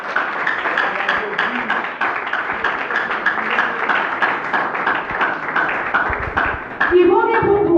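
A church congregation applauds the Lord, a dense, steady patter of many hands clapping close and loud throughout, mixed with voices, swelling slightly near the end.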